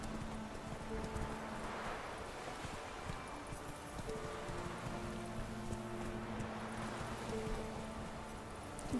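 Roach the horse galloping in The Witcher 3: Wild Hunt, a steady clip-clop of hooves running continuously over a droning game ambience with wind and water-like background sound.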